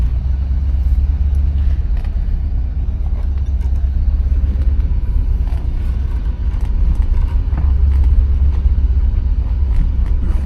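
A 1967 Cadillac DeVille driving on the road gives a steady low rumble of engine and road noise from inside the car, continuous and fairly loud with no talking.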